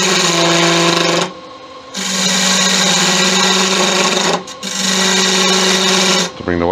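A wooden figurine spinning on a woodturning lathe is shaped with a peeling cut, giving a loud, steady motor hum and a scraping rasp. The cutting sound stops briefly twice and then starts again close by.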